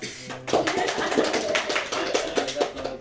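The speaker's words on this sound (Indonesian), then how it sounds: "Tepuk tangan dulu." A small audience claps after a presentation, a light, uneven patter of hands with individual claps standing out, fairly close and without talk.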